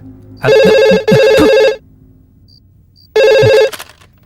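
A telephone rings in a dubbed Malayalam comedy horror film, loud electronic bursts: two rings in quick succession, a pause, then a third, with no talk.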